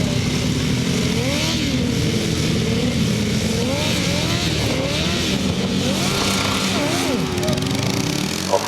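Grasstrack racing motorcycles roar off the start line together, engines revving hard and rising and falling in pitch as they accelerate down the first straight, loud and close, with a commentator talking over them.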